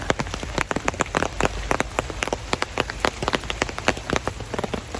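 Heavy rain pours nearby, drumming loudly on a surface with many distinct drop impacts in a busy, continuous patter, no one speaking.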